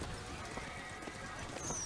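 Horse hooves clip-clop in the video game Bioshock Infinite, a quick series of soft, evenly paced hoofbeats, fairly close over a low ambient hum, with a faint whinny-like tone near the end.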